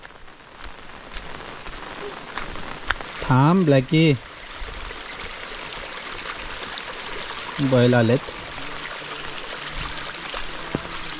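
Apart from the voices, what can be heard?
heavy rain in a Konkan village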